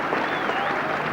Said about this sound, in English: Applause from Randall himself.